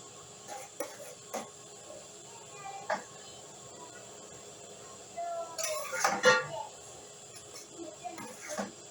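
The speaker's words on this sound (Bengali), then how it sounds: "এবার আমি বোঁদেগুলো সবগুলো দিয়ে দেব।" Homemade boondi is tipped into a pan in the kitchen, a soft rushing clatter mid-way, set among light metallic clinks of utensils against the pan at a quiet, close level.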